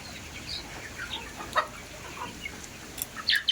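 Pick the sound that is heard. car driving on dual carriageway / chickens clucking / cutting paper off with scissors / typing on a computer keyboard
chickens clucking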